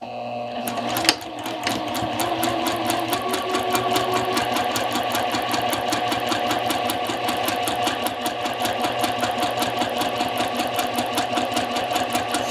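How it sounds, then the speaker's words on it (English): A sewing machine runs steadily on a number 2 stitch, sewing darts in fabric for a slash pocket, with a fast even mechanical whir and rapid needle ticking close by after a brief start. "I'll go to my sewing machine and sew these darts"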